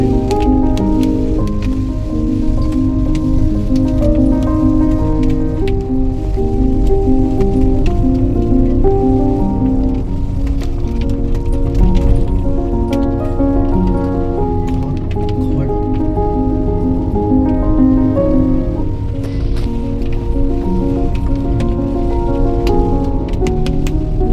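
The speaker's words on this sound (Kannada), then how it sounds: "ಸಿಕ್ಕಾಪಟ್ಟೆ ಮಳೆ." Heavy rain falls during a trip to temples, drumming steadily and loudly throughout with a continuous droning tone underneath and a faint voice now and then.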